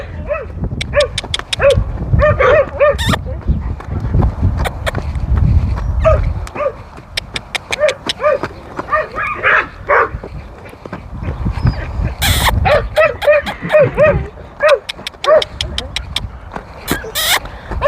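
Dogs bark repeatedly in short bursts, nearby and fairly loud, mixed with other animal noises and rustling around horses, with occasional gaps between volleys.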